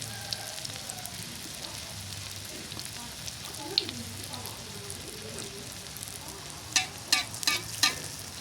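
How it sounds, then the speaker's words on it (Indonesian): Steady oil frying of kue kucur batter with a constant crackling hiss, a few sharper clinks and stirring sounds near the end, and faint voices in the background. "Goreng kucur ki nek wis ngono kuwi, Den."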